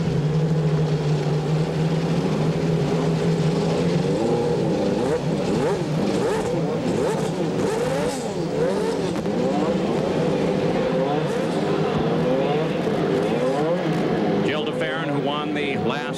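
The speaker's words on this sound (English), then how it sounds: "As the command rings out and the engines fire in" Indy cars of a 1996 CART race field fire up on the starting grid, a dense roar of racing engines revving together throughout, with a commentator talking over the top.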